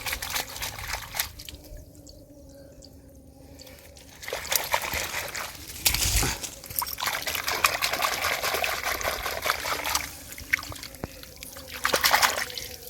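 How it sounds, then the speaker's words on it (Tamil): A large mud crab caught in a mangrove forest is rinsed by hand in water, giving trickling, sloshing and splashing sounds in uneven bursts, close by, with voices talking over parts of it. "அந்த தண்ணியில் அலசி காட்டுங்க"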